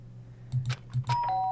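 Two-tone doorbell chime from the video game Danganronpa Trigger Happy Havoc, sounding twice in quick succession, clear and fairly close, followed by a faint electronic tone.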